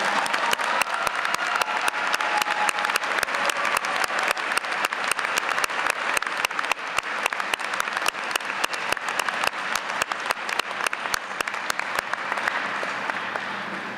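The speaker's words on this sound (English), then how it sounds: "How about one more round of applause for the entire class?" A graduating audience applauds a 2012 Duke University Master of Management Studies class, dense, steady clapping from a large crowd filling the whole stretch without a pause, loud and even from start to finish.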